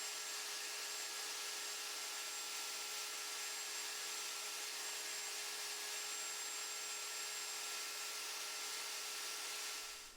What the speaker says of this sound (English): First I clamped the router onto the horizontal boring table and routed the